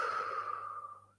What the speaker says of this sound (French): Nous allons d'abord expirer tout l'air de notre corps par la bouche.